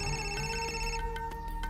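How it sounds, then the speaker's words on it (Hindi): A telephone ringtone plays close and alone, a bright tonal electronic ring with short repeating notes, briefly and without talk. "ये शेखर फोन कर रहा है"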